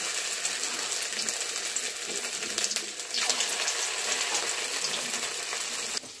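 Small Bengali fish fritters are frying in hot oil in a home kitchen, giving a steady, close, loud crackling hiss that stays continuous throughout.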